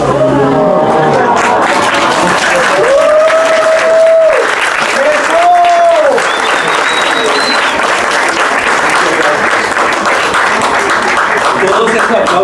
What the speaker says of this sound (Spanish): Todos esos aplausos y todo ese amor para Dieguito